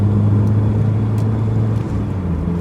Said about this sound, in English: that exhaust noise just always makes me smile